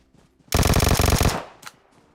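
Burst of automatic gunfire in PUBG Mobile, a loud rapid run of shots lasting under a second, then a brief trailing echo and one faint later crack; no voices.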